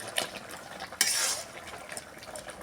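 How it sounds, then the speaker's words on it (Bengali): A spatula stirring hilsa fish head and greens in a pot, a few soft scraping strokes with one sharper clatter of metal on the pan, fairly close and without talk. "এইভাবে খুন্তি দিয়ে আমি মিশিয়ে দেবো"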